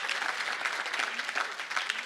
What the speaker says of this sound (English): how about a round of applause for Butch and the troopers of the 3rd